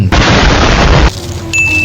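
A loud, sudden Plants vs. Zombies bomb blast roars for about a second, then cuts off, leaving a faint electronic tone.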